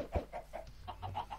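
Chickens in the Minecraft video game give a short run of soft, repeated clucks, about eight quick blips in steady rhythm, faint and alone.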